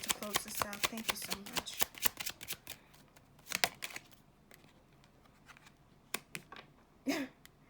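Tarot cards shuffled and drawn during a reading, a quick run of papery riffles and slaps, loudest early on, then sparse single card snaps at close range, with occasional speech under them.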